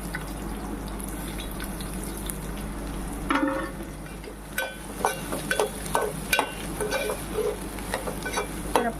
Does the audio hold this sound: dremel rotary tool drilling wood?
no